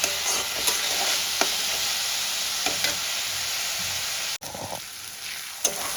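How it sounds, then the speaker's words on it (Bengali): Chopped onions frying in a pan until reddish, a bright steady sizzle with a few stirring scrapes, then a sudden brief drop before the crackle resumes. "এবার আমি দিয়ে দেব পেঁয়াজ কুচি। পেঁয়াজটা আমি লাল লাল করে ভেজে নেব।"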